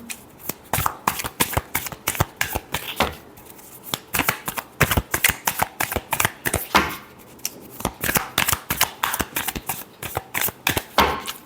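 A deck of tarot cards is shuffled again and again close up, giving rapid riffling bursts separated by short pauses, with no talking.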